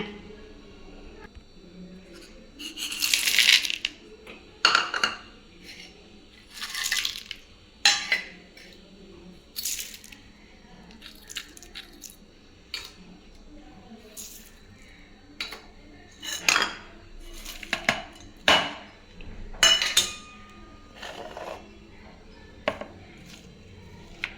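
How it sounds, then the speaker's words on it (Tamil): Chopped onions and water go into ragi flour while it is mixed by hand in a metal bowl, giving repeated clinks and scrapes of utensils against the dish in an irregular rhythm with no talking. "இதை நம்ம எல்லாம் ஒன்று ஒன்றா போட்டு கலந்துடலாங்க"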